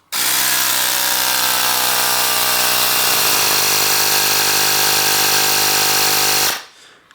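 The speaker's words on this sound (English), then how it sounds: "the cordless inflator managed to pump up the tire to 120 psi in just short of 33 seconds" A Ryobi cordless inflator pumps up a road bike tire with a steady, loud motorized buzz whose pitch shifts partway through, then cuts off sharply near the end.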